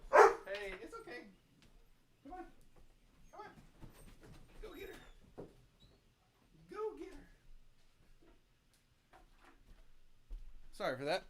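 Pet dogs bark in short bursts at the very start and again at the end, close and fairly loud, with a person talking in between.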